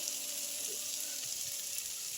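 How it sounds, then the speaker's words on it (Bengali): A pan sizzles steadily and softly as hot water is added to frying masala and egg, with a quiet bubbling hiss of liquid in hot oil and no talking. "এবার আমি মশলাটা আর ডিমটা একসঙ্গে মাখিয়ে নেওয়ার জন্য একটু গরম জল ব্যবহার করলাম।"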